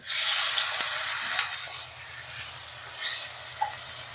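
A splash of water poured into frying potatoes and pointed gourd for a vegetarian korma hisses up at once in a loud steamy sizzle, eases off, then surges again briefly near the end with a small clink.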